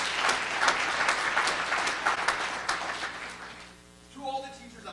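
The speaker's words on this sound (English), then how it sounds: "One more big round of applause." A crowd gives a big round of applause at a student entrepreneurship showcase. The clapping is loud and sustained, then fades out, and a speaker's voice comes in just after it ends.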